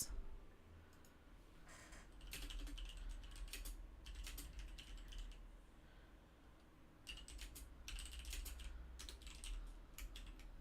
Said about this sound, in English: Sorry, I'm typing in the chat